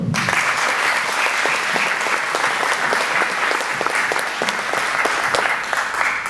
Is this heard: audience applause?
yes